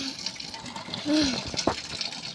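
Tap water runs into a basin while someone washes their hands at a painting job, a steady, close hiss of flowing water with small splashes and shifts in the stream, under faint background noise.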